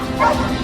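A family's dogs near a house give a single loud, close bark with a yelping edge, short and sharp, directed at a stranger.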